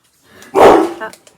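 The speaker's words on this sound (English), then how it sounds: "Excuse my dog. She hears my husband." A pet dog in a home barks once loudly and close by, a short sharp bark with a trailing yelp, heard alone in an otherwise quiet room.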